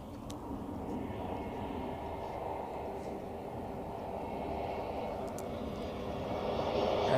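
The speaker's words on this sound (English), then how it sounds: "next another Helvetic Embraer 195 E2" Helvetic Embraer 195 E2 jet at Zurich Airport, a steady broadband engine roar that holds evenly and swells slightly louder toward the end, with faint voices in the background.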